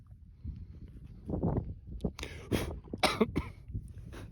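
A person coughs close up in several harsh, sputtering bursts after choking on saliva, following some quieter throat and breathing sounds.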